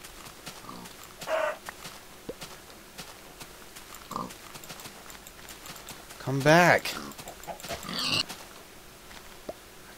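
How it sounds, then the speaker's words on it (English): A pig in the blocky survival game Minecraft oinks in a few short grunting bursts, mixed with other game creature noises, while someone speaks briefly nearby. "I can't hit you if you're running away from me. Stupid pig."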